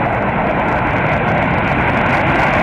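Steady, loud roar of a B-2 stealth bomber in flight, a dense continuous engine rumble and rush without any break, no voices.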